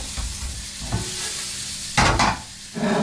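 Sizzling fish stir-fried with black pepper and garlic in a pan on a domestic gas hob, a gentle low hiss broken by a few scraping stirs and a louder clattering burst of stirring near the end.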